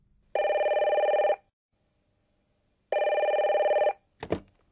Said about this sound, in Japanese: 電話のベルが鳴った